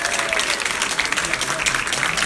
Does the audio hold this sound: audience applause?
yes